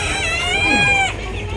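At the Khon Kaen University agricultural fair, a chicken crows and clucks loudly close by over a continuous bustling background hum.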